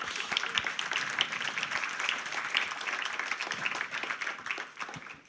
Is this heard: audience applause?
yes